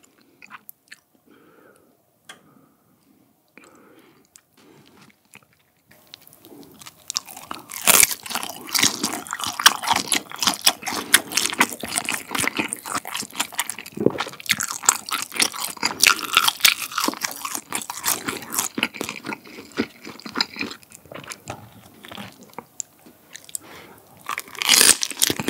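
Close-up mukbang chewing of crispy guobaorou, Chinese sweet-and-sour fried pork, with loud repeated crunches and bites. The crunching starts after a quiet opening and continues for about twenty seconds.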